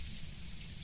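Rain falls outside a haunted house in the ghost-hunting game Phasmophobia, a faint, steady hiss of drops with a soft low rumble beneath, very brief and with no voices.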